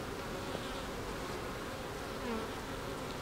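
Honey bees at a hive in a Quebec apiary hum in a dense, continuous buzz, close and steady for the whole stretch, with no voices.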